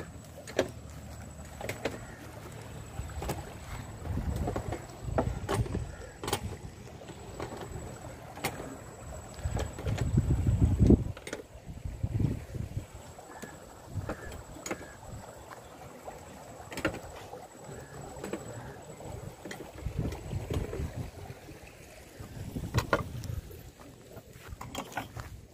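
A wooden fishing boat used for trips to the Sundarbans, on the water near Canning, with a low hum and scattered knocks, splashes and creaks, moderately loud and steady, with no one talking.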